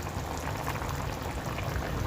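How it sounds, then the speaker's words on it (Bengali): Fish curry broth with fried bata fish and ridge gourd bubbling at a steady rolling boil in an uncovered pot, a continuous dense gurgle and hiss close by with no voices. "ঝোল ফুটে উঠেছে"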